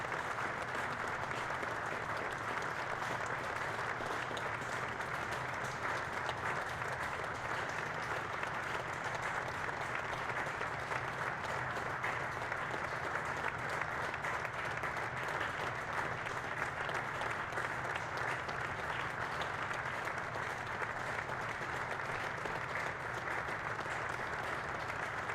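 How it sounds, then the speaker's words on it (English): Sustained applause from a football stadium crowd at Watford, a minute's tribute clapping that runs evenly and continuously from start to finish, heard at a distance with no voices over it. "We're going to have a moment's applause here."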